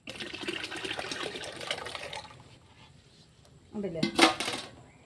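Water mixed with wood ash fertilizer is poured into a container, a brief splashing burst near the end after quieter clattering and handling sounds.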